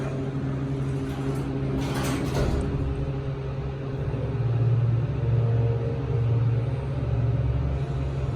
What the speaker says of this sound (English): Alright, there goes the door.